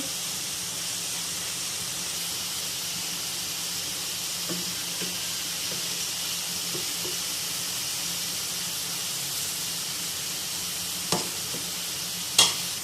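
Browned onions frying in a pan for mutton biryani give a steady, close sizzle and hiss with soft stirring scrapes, then a couple of sharp utensil clinks near the end.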